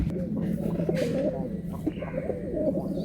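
Pigeons coo steadily in a full loft of flying birds in Mourigram, Howrah, with low throaty calls repeating close by over a busy background and possible faint voices.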